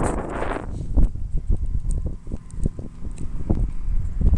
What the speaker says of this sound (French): Et en plus, vent de face depuis qu'on est parti.